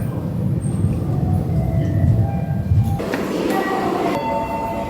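Train in Otaru, Hokkaido, Japan, rumbling along with low, steady rolling noise and faint squeals, then brighter clattering and tonal hum as it shifts, fairly loud and close.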